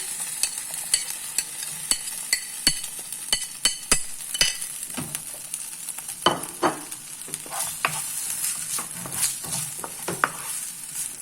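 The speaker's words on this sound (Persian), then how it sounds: "تو این فاصله ای که سیب زمینی یه تفت کوچولو میخوره" Potatoes sauté in a pan with softened onion and garlic, a soft continuous sizzle under repeated sharp stirring clicks and scrapes, close and fairly quiet.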